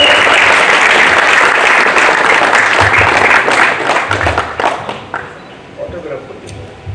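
Loud, dense audience applause at a movie launch event with Kiccha Sudeepa present, sustained clapping from a big crowd that gradually thins and fades toward the end.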